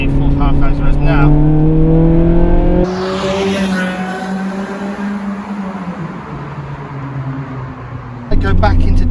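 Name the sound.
car with Japspeed single exit exhaust revving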